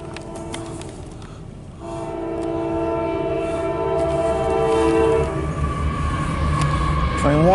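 A CSX autorack freight train sounds its horn in a long sustained chord, loud and fairly close over the rumble and rattle of the passing cars, while people talk nearby.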